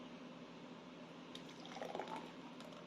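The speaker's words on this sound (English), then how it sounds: "we are going to basically pour it into the glass like this" A coconut smoothie is poured into a glass, giving a faint, soft liquid trickle that swells briefly midway, quiet against a steady background hiss, with no talking.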